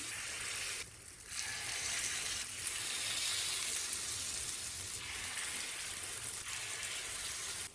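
Wheat paniyaram batter spooned into sesame oil in a pan fries with a soft, continuous crackling sizzle, dipping briefly near the start before carrying on evenly at a fairly quiet level.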